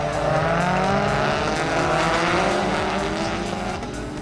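Rallycross cars, including a Red Bull Olsbergs MSE Ford Fiesta, run single file down the front straight at Bushy Park, Barbados, in a 2015 Red Bull Global Rallycross round. A loud, steady engine roar fills the whole stretch.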